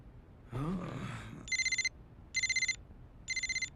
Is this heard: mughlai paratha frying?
no